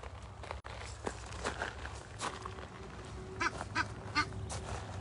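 Ducks quacking close by, about four feet away, in short harmonic bursts toward the end over steady outdoor background noise and faint footstep-like scuffs.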